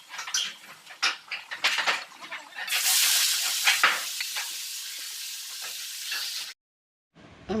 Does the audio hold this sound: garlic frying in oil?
yes